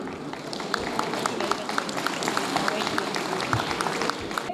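Applause from the audience at a lawyers convention in Lahore, a dense wash of many hands clapping steadily with crowd murmur, sustained throughout at moderate loudness.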